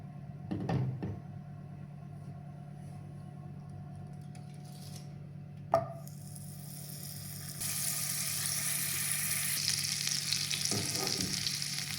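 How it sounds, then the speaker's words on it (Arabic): Granulated sugar melts into caramel in a pan, giving a steady low sizzle and simmer with a soft clatter near the start and a sharp knock midway, after which a brighter hiss swells and holds. "سكر حبيبات صغير، غادي نديرو هنا يذوب يولي بحال الكراميل ونطلقها"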